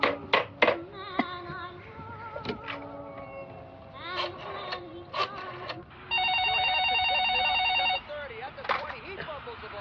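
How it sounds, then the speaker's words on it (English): An old telephone in a horror film rings with one sustained, loud electric bell burst of about two seconds, set among softer scene sounds and voices. "It's an old phone and I rarely use it. I hope it works."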